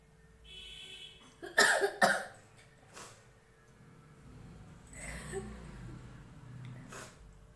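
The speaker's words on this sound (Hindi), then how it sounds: "ये छींक कम रही है, खांस ज्यादा रही है।" A girl coughs at home in a short burst of two or three loud, harsh coughs, followed by a softer single cough and breathy throat sounds, close with quiet background noise.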